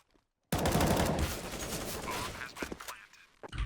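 Gunfire in the video game Counter-Strike at a 2016 ELEAGUE Major qualifier: after a moment of silence, a dense loud burst of rapid shots erupts and rattles on, thinning into scattered pops near the end.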